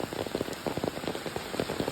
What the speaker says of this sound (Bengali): কালকে রাত্রের থেকে যেভাবে বৃষ্টি হইতেছে এভাবে মানে কল্পনার বাইরে বৃষ্টি হইতেছে